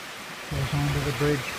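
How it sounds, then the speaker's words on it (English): Creek water spilling off a small waterfall in the Philippines, a steady close rush that runs throughout and continues beneath someone talking. "It's coming off there in that little waterfall."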